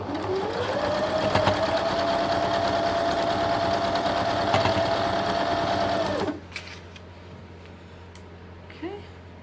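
A sewing machine runs steadily for about six seconds, stitching quilt fabric kept flat during sashing and borders, with a rising whine that then stops abruptly, leaving quiet room sound and a person speaking faintly.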